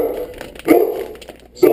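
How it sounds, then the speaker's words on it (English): A pet dog barks twice indoors in a home kitchen, two loud, close, sharp barks about a second apart with quieter whining between them. "Sorry about my dog."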